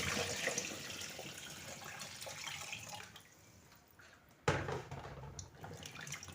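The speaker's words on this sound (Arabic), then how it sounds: "وغادي نجيب الماء، غنزيد الماء باش غنغسلو" Water running and splashing steadily as it is added to black olives being washed in a home kitchen, dipping midway before a fresh, louder gush.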